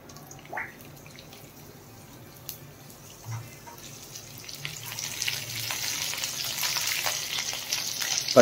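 Chopped ginger drops into hot tempering oil along with mustard seeds, cumin, chana dal and dried red chillies, and the quiet pan grows into a louder, steady crackling sizzle over the last few seconds.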